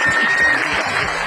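A short burst of audience applause at a music and dance performance, dense and continuous, with a voice talking over it.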